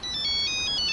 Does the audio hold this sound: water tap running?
no